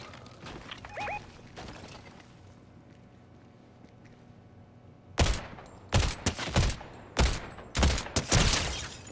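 Several sharp bursts of Fortnite video game gunfire crack out in quick succession after a quiet stretch, loud and close, with a faint short chirp early on.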